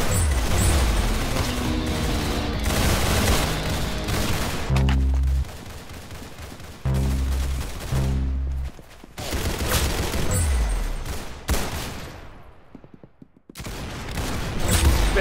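Gunfire from the video game Arsenal: repeated loud bursts and volleys of shots over a busy game soundtrack, with brief gaps between flurries and no speech.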